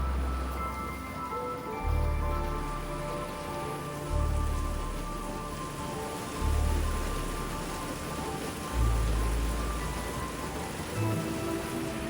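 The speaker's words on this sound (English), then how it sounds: "This is not normal circumstances, even in rainy season, for the rain to be going on for this long." Heavy rain pours down during extreme flooding on Koh Phangan island in Thailand, a dense continuous hiss of drops hitting surfaces, with deep low rumbles swelling in regularly every couple of seconds.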